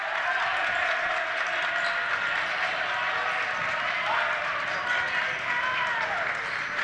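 Basketball crowd in a college gym at a men's game, cheering and making noise in a continuous steady roar with scattered claps and shouts, moderately loud throughout.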